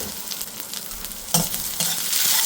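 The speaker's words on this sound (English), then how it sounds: "Need to saute those onions." Finely slivered onions sauté in a hot balti pan, a steady close sizzle with soft stirring scrapes, jumping louder around the middle and staying bright toward the end.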